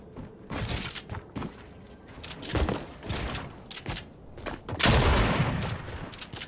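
Bursts of SMG gunfire in a Fortnite Arena match, several separate volleys of rapid shots spread across the clip, with a louder, denser burst near the end and no talk over it.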